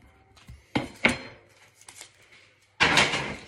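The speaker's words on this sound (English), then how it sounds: "Top and tail the onion" A knife chops an onion on a cutting board, giving a few sharp, close knocks and scrapes at uneven intervals, followed by a longer, louder scraping thud near the end.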